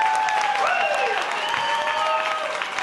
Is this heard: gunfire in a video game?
no